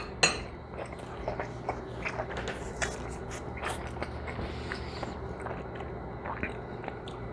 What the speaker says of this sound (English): Please forgive the chewing noise.